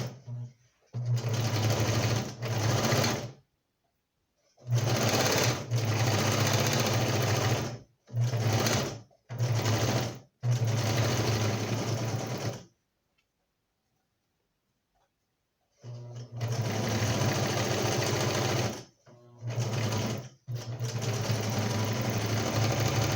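Sewing machine sewing a cushion cover seam in repeated loud close bursts of steady stitching, separated by short stops and one longer silent gap.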